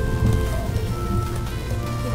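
Steady rain falling in a Roblox Royale High game world, a continuous soft patter of drops on surfaces, evenly loud throughout with no voices.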